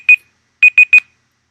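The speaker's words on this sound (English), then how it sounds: "Oh, there goes the timer." Electronic timer alarm going off: a single bright beep, then a quick run of three sharp beeps, loud and close with silence between.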